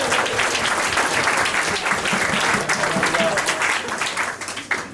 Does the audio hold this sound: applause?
yes